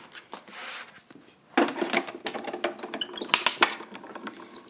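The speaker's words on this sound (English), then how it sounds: "You hear the cracking, that's perfectly normal, especially when you have big open dies." A die cutting machine rolls and grinds through cardstock with a large open die, with a run of sharp cracking snaps and clicks rising toward the end, close up.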